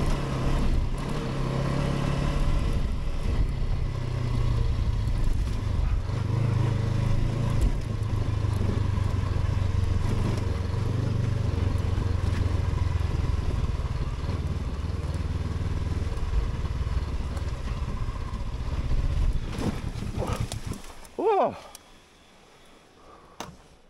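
A Honda CB500X motorcycle riding wet, muddy mountain trails, its engine droning loudly and steadily up close with the rattle of rough ground, then dropping away abruptly near the end.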